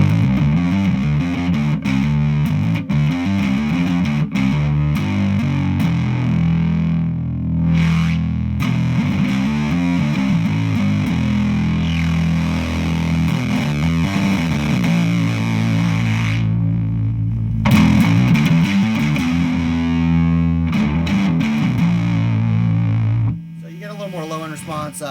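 Heavily distorted, fuzzy bass guitar through a germanium Fuzz Factory pedal, riffing with a thick, gritty low end, playing continuously and loudly before cutting off near the end.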